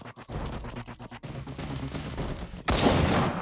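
Gunfire in the mobile shooter Cover Fire crackles in rapid close bursts, ending with a louder blast near the end of the short stretch.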